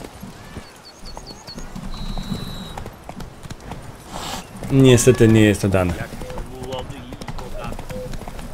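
Roach the horse galloping in The Witcher 3: Blood and Wine, quick hoof clip-clops under steady game audio, with a louder burst and a whinny-like cry midway, while someone speaks over it.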